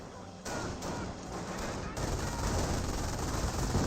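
Rapid machine gun fire rattles continuously in a Company of Heroes battle, a dense, loud stream of shots that grows heavier partway through.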